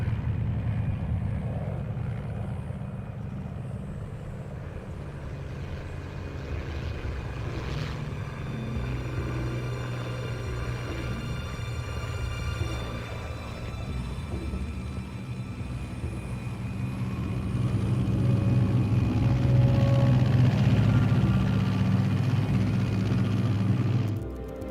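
A steady, low aircraft engine drone fills the cabin before an airdrop in the video game Metal Gear Solid 3: Snake Eater, continuous and building slightly louder toward the end, with no talking.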